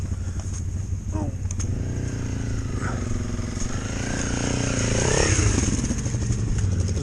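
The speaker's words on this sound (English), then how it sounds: "there's Green on his CRF 300" Off-road motorcycles, a Honda CRF 300 and a T7, riding past outdoors with a steady engine drone that swells and revs toward the end, along with light clatter.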